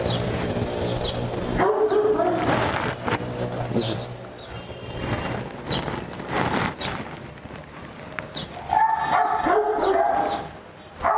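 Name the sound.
Rottweiler dog barking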